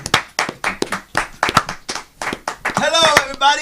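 An audience claps for an indie wrestler at a live wrestling show, short bursts of applause mixed in with a loud announcer's voice talking over them.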